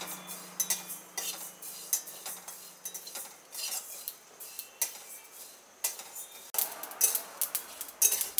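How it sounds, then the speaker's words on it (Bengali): Panch phoron, black mustard seeds and fennel seeds frying in a pan, heard mostly as sharp clinks and scrapes of a metal spoon stirring against the pan, irregular and close, with no talking. "কিছুটা পরিমাণ পাঁচ ফোড়ন, কালো সর্ষে আর মৌরিটা ফ্রাই করে নিচ্ছি।"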